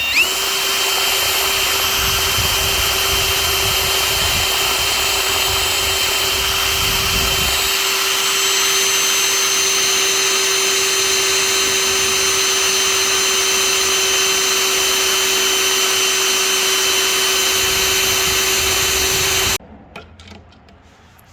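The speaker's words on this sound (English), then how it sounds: "Now that it's been cut flush, we'll just go ahead and drill a hole." A power drill runs loudly and steadily for a long stretch, drilling a hole in the wood of a rocking chair, a constant motor whine with slight variations, then stops abruptly.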